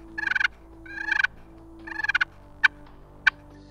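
A Strut pot call, a friction turkey call, is worked to imitate wild turkey sounds: three rapid fluttering rattles followed by two sharp single clucks, close and clear against a quiet background.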